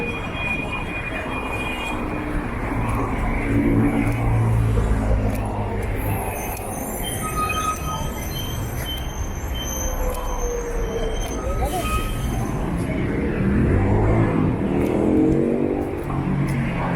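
Heavy city buses roll past on a street in Belgrano, Buenos Aires, with a steady rumbling engine drone, hissing and squealing brakes, and brief high whines over continuous traffic noise.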